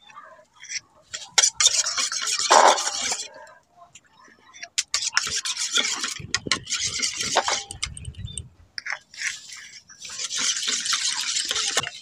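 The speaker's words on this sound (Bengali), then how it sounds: "অল্প অল্প করে দিয়ে এটাকে ভালো করে মিশিয়ে নেব।" A spoon stirs milk powder into milk in a bowl, with intermittent scraping and swirling clinks against the bowl, close up in several bursts with pauses between.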